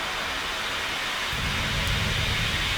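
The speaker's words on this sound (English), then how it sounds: "The thunder's so good." Deep rolling thunder blended into steady rushing rain-like noise from a white noise machine, a low rumble swelling partway through beneath the constant hiss.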